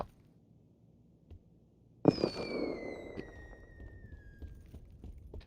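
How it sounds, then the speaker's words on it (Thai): A flare gun fires in PUBG during the first free-to-play day on PC, a sharp loud report followed by a long whistling tone that slowly falls in pitch over a few seconds. "ยิงพลุ"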